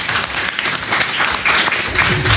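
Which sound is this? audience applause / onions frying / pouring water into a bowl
audience applause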